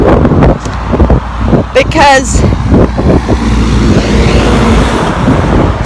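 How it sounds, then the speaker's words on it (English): Road traffic rolls past nearby, a broad wash of tire and engine noise that swells and fades, while a person talks close up over the top of it. "sorry about all the traffic"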